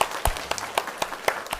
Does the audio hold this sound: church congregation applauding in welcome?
yes